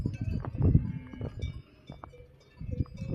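Cows grazing on the Anzeindaz mountain pasture in Switzerland set off irregular clanks of cowbells, moderately close, with brief quiet gaps between the jangles.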